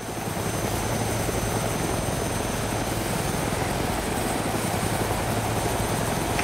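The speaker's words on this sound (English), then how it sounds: "If you do like helicopter fun, I got tons of helicopter footage that I can upload." A helicopter in the video game DayZ flies with a steady, loud rotor drone and engine whine, unbroken throughout and with no voices over it.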